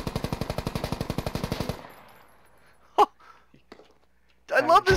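Sustained automatic fire from an M240B machine gun in the tactical shooter Squad, a rapid, loud, evenly spaced burst of roughly twenty shots lasting under two seconds, followed by fainter scattered noises and a sharp crack.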